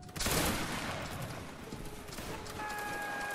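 A volley of gunfire during a video game firing drill, a dense, sustained burst of overlapping shots that starts loud and stays busy throughout, with a faint tonal whine near the end.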